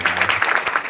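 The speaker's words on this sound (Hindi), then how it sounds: "सौम्या के लिए जोरदार ताली" Brief burst of clapping from a school crowd at an Independence Day function, fairly loud and close, a quick run of claps with no talk over it.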